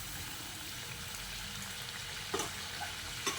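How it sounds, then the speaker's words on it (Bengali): Taro curry with sugar and chopped coriander cooks in a pan with a soft, steady sizzle. A few faint scrapes and taps of stirring come near the end. "চিনি আর ধনেপাতা কুচিটা দিয়ে আবারও একবার ভালো করে নেড়ে চেড়ে মিশিয়ে নিচ্ছি।"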